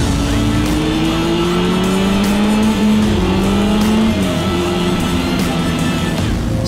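A sports car's engine roars steadily while driving in Alanya, loud and close, its pitch rising and falling through gear changes, with faint tire noise and no talk.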